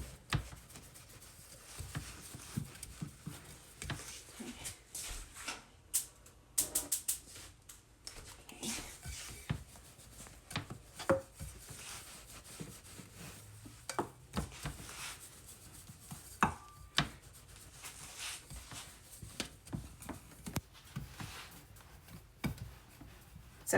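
A makeshift rolling pin presses and rolls floured donut dough on a work surface, making soft irregular thumps, taps and rubbing sounds, close and fairly quiet, with no talk.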